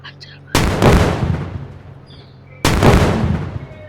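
Missiles launched and exploding in the India Bike video game, two loud sudden blasts about two seconds apart, each a sharp hit that decays into a long rumbling tail.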